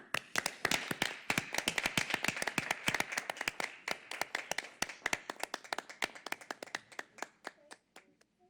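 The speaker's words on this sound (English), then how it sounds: "Hopefully we can begin a round of applause for you." Scattered applause from a small group at a school board meeting, with distinct individual claps in an irregular rhythm that thins out and tapers over several seconds.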